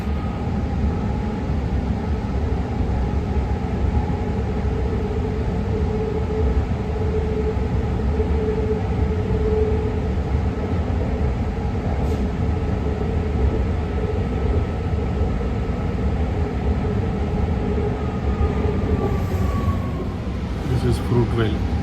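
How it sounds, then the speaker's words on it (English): A BART train rumbles steadily through the San Francisco Bay Area on the line toward Berryessa, loud and close from inside the car, with a faint rising whine near the end. "So this train is going to Berryessa"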